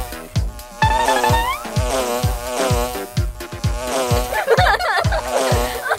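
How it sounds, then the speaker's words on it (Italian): A swarm of bees buzzes in a children's cartoon, a busy, wavering drone set over loud, rhythmic music with a steady beat, most noticeable toward the end. "Ci sono così tante api qui"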